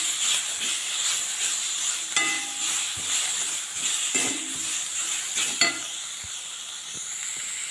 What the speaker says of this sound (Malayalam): തക്കാളി ഇട്ട് നന്നായിട്ട് വഴറ്റാം